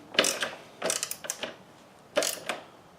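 Bolts on the right rear pannier rack of a bicycle are tightened with a ratcheting tool, giving short clicking bursts in three separate groups, close and clear, with no speech.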